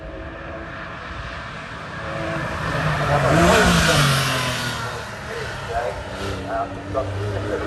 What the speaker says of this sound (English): Simon Tarling has just left the line in the 996 GT3 Porsche.